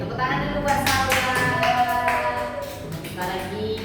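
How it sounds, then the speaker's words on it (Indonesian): Children clap together for a classmate in a classroom, a short burst of fairly close hand claps mixed with voices talking. "Tepuk tangan dulu buat Salwa."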